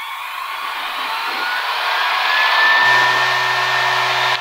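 A Remos light aircraft engine at full RPM on its takeoff roll down runway 32 near Lake Havasu City: a loud, steady broadband roar that swells slightly, with a low, steady tone appearing partway through.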